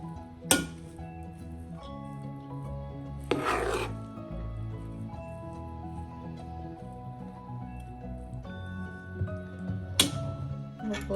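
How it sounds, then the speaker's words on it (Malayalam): Cooked jeerakasala (kaima) rice being stirred for chicken biryani, with soft scraping and rubbing of a spoon through the rice and a few sharper clinks against the pot. "ഇളക്കി കൊടുക്കാം."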